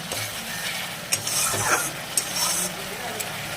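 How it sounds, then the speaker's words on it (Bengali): Spice masala and potatoes fry in oil with a close, lively sizzle and repeated spoon scrapes and knocks against the pan in short bursts, with no speech. "মশলাটা প্রায় কষে আসছে আর আলুগুলো কিন্তু দেওয়াই আছে"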